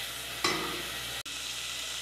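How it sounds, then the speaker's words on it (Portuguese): Garlic dropped into hot butter in a pan, a sudden sizzle that bursts up then settles into steady faint frying, briefly cut by a short dropout. "Acrescente o alho e dore."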